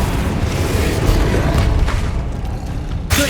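A Confringo explosive spell blast from the video game Hogwarts Legacy, a loud, booming burst layered over a dense rumble of game effects, with a sharper crack near the end.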